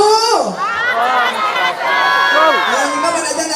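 Lively crowd at a Calonarang temple performance at Pura Dalem Setra Banjarangkan, with raised, cheering voices and shouting filling the space continuously, children's voices among them, loud and close throughout.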